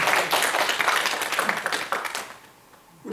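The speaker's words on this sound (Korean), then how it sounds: "박수 한번 쳐드리니까" Congregation at a Korean Baptist church service claps for the mothers on Mother's Day, a full burst of applause that fades out near the end.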